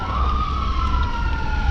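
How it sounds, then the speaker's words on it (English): An emergency siren wails in small-town Marion, North Carolina, a steady tone sliding slowly downward at moderate distance over a low rumble of background noise. "Here's some sirens"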